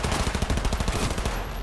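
Submachine gun fire in the game Cyberpunk 2077, a rapid loud burst of closely spaced shots that stops near the end.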